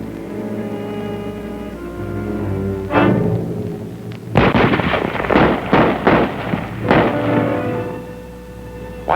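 Dismounted cavalry riflemen fire in a 1943 WW2 US training film, a cluster of sharp, loud shots in quick irregular succession over a low droning background.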